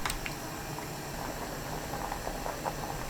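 A pot of perilla leaf doenjang soup with tofu, onion, minced garlic, chili powder and pollack powder boiling steadily, a soft continuous bubbling simmer heard close up and alone.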